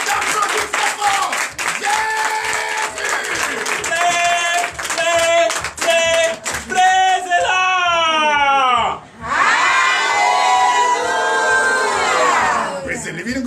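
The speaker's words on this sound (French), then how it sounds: "Donc je vous demande encore et encore d'applaudir très fort" A church congregation at a Sunday service in Comè, Benin claps loudly and steadily while voices shout and sing over the clapping, with a short dip in the din before it surges again.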